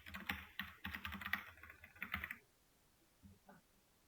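Bursts of computer keyboard typing while code is entered, fast close clicks for about two and a half seconds, then near quiet with a few faint taps.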